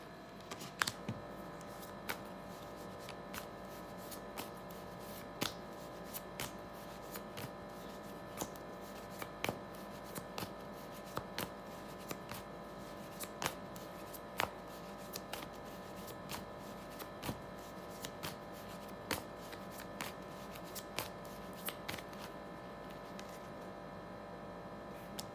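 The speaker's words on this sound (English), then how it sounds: "Sometimes I shuffle for a long time because I feel like I just need to." Tarot cards are shuffled steadily and at length, a soft, quiet stream of regular riffling clicks and flutters heard close up with no talking.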